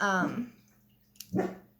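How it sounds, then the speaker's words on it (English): A dog barks once up close, followed after a short pause by another bark, with quiet between. "Stop barking"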